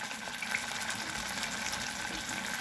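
Steady, dense sizzling of garlic frying in a hot pan, a continuous crackling hiss with no voices.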